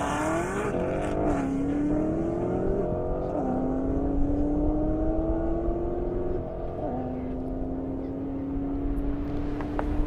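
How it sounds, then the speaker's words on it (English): A fast Corvette roars down an airstrip in a half-mile drag race, its engine climbing through several hard upshifts with a loud, sustained drone that holds steady throughout. "It's one fast Corvette."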